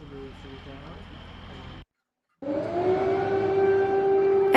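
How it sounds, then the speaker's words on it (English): A rising, sustained wail of an air raid siren in Kyiv fills the second half after a brief silence, preceded by muffled noise and low rumble. "Air raid sirens sounded in Kiev on Wednesday"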